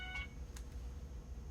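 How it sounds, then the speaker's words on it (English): A mobile phone gives a faint ringing chirp, a short tonal beep followed by a brief higher blip, quiet against a low background hum. "That's my phone."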